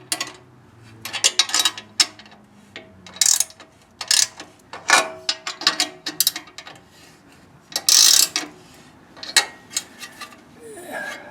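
Ratchet wrench tightening bolts on a propane tank mount for a 2019 XL Boondock Edge trailer, with quick irregular clicking bursts and short metallic rattles, close by, alone.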